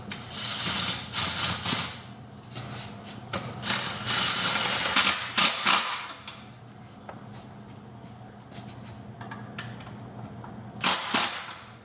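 A cordless impact wrench snugs up two side bolts while swapping the battery on a Stark VARG electric motorcycle, firing in several loud rattling bursts separated by short pauses, with workshop clatter between them.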